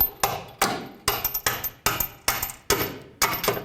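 Hammer blows drive a bolt into the front lower control arm of a 2001-2007 Toyota Highlander: eight sharp metallic strikes in a steady rhythm, loud and close with no talking.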